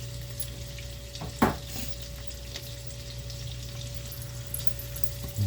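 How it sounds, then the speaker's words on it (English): Homemade burger onions frying in a pan, a low steady sizzle with faint crackles and a couple of louder clinks from stirring, no talking. "Something about them onions cooking in the pan, that thing smell good."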